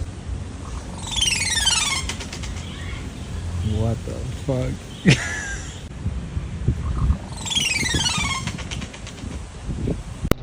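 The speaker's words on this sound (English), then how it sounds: "please listen to this fucking bird" An unusual bird repeats rapid descending chirping trills in two clear bursts, with other odd calls in between, while a person exclaims over background noise.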